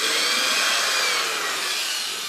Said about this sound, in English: Drill your second hole.